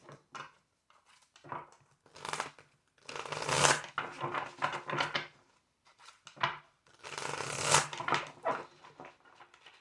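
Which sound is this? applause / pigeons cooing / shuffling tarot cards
shuffling tarot cards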